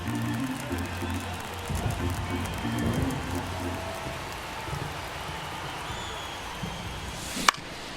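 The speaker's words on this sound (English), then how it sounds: "the field's not going to be able to hold up if the rain gets any worse than this" Rain falls over a baseball field in MLB The Show 24, a soft continuous patter beneath low crowd murmur and a faint commentator voice, ending with a single sharp crack.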